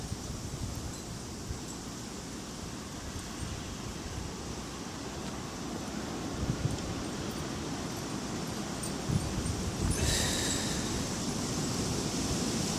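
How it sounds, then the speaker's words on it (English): Strong wind blowing outdoors during a snowy blizzard, a constant roaring rush close to the microphone with occasional gusts and faint rustling, no voices. "it's very, very windy out here."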